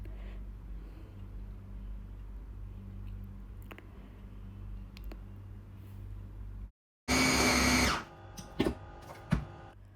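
A loud electric chopper whirs in a short burst of about a second, chopping a chicken mixture with chilli garlic sauce, followed by a few clattering knocks.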